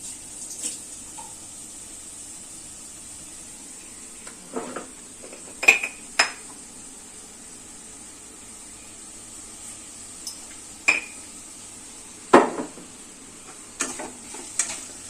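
Metal utensils clink and scrape against a pan of chopped tomatoes as salt goes in while cooking paneer butter masala, with scattered sharp clatters over a steady low sizzle and hiss, close and moderately loud, no talking.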